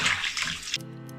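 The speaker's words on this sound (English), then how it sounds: "let's wash our hands first." Tap water runs while hands are washed at a sink, a bright close splashing that cuts off abruptly partway through and leaves a faint residual hum.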